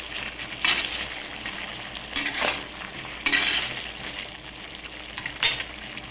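Cucumber chicken curry with rock salt cooks in a pan with a steady frying hiss, broken by a few louder scraping bursts as a utensil stirs through it.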